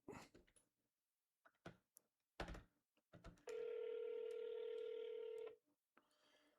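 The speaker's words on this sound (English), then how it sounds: "All right. I'm calling you, Canuck." A telephone call is placed: scattered clicks and short keypad beeps, then a steady electronic tone holds for about two seconds before stopping, close and clear with no talking.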